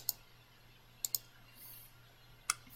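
Several sharp, quiet computer mouse clicks in a near-silent room: two close together near the start, a pair around the middle and one more near the end, with a faint steady hum underneath.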